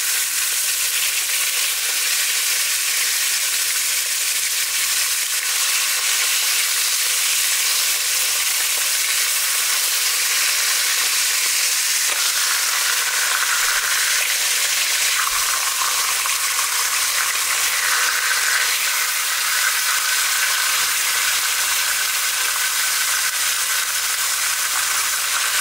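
Loud, continuous sizzling of hilsa fish frying in hot oil in a pan, a steady crackling hiss with no voices.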